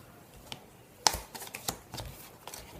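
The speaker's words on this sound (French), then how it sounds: "je prends une petite carte" Oracle cards being shuffled and drawn from a deck, soft papery flicks and slides with a couple of sharper snaps, close and fairly quiet, no voices.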